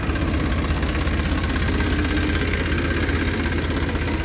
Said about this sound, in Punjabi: ਦੋ ਟਰੈਕਟਰ ਲਾਤੇ ਆ ਦੋ ਟਰੈਕਟਰ ਚੱਲਦੇ ਪਏ ਇਧਰ